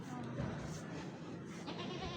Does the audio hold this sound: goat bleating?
yes